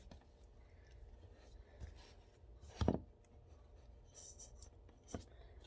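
Tarot cards shuffled by hand: a soft, continuous papery rustle close by, with a couple of sharper taps standing out.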